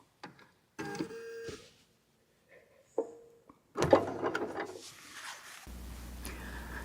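A sewing machine stitching feather designs on a quilt panel, running in short whirring bursts with pauses between, including a few quick locking stitches, then a longer, louder run near the end.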